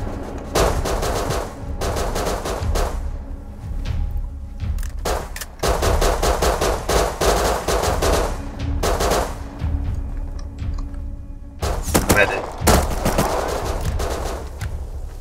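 Bursts of rapid automatic gunfire in the survival game Rust, loud and close, come in repeated volleys separated by short gaps, with occasional single shots between the sustained strings.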